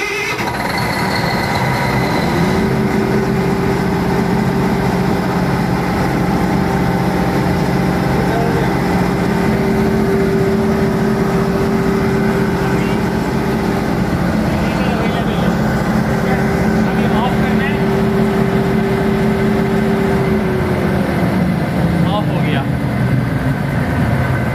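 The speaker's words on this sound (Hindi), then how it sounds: "ये अभी थोड़े से टाइम के बाद ऑटोमेटिकली क्रैंक करवाएगा इंजन को और इंजन स्टार्ट हो जाएगा।" A diesel generator is cranked automatically and fires into a steady running drone that holds for a long stretch before easing off, loud and close amid broadband noise.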